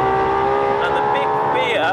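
Ferrari LaFerrari hybrid engine revving hard under acceleration in third gear, a loud steady harmonic drone with tones rising toward the end, close and continuous with a voice talking over it.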